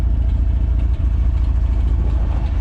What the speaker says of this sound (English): Good old glass pack muffler.